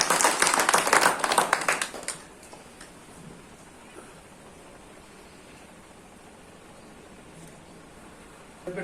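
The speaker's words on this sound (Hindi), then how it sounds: "संदीप बोध जी, जोरदार तालियों के साथ स्वागत करें साथी।" An audience at a Bahujan cadre camp gathering gives a short, vigorous burst of clapping in welcome, loud for about two seconds and then dropping away to quiet room tone.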